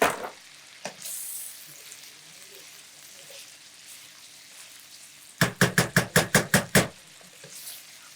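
Food deep-frying in a pan on a cooking show after being cut with a knife, a steady soft sizzle throughout, with a sharp knock near the start and a quick run of about eight loud rhythmic taps toward the end.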